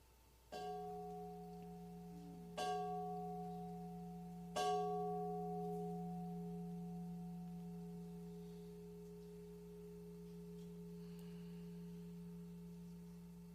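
A singing bowl struck three times in a quiet room during a moment of stillness, each clear ringing tone swelling then reverberating and slowly fading over long seconds, soft and alone without talk.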